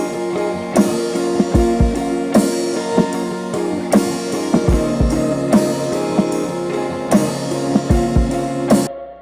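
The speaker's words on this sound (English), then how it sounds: "It's a hip-hop styled sort of drum loop." A hip-hop style drum loop called tornado plays in a steady repeating pattern, punchy kicks and snappy hits over a sustained tonal bed, loud and close with no talking.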